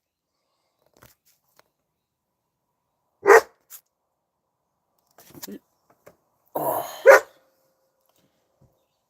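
A dog gives a couple of short barks, then a louder burst of barking near a garage being torn up, with a brief spoken exclamation in between.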